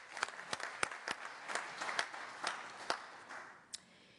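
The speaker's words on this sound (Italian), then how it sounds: "Io direi che possiamo fare un applauso anche alla Ministra." Applause for the Minister at a conference on brain health strategy, a fairly faint, sparse patter of clapping with distinct individual claps that fades toward a lone final clap.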